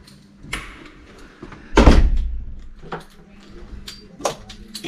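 A house door is handled in a few knocks and clicks, then one heavier thud of it shutting, close by, with lighter taps trailing after.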